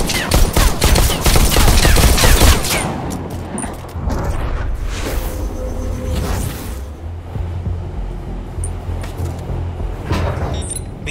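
Gunfire in the VR shooter Bullet Train VR, with a dense, loud burst of rapid shots at the start, then scattered single shots and impacts over a quieter game background.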